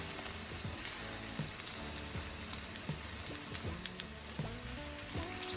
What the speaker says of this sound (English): sear those beef shanks until they brown on each side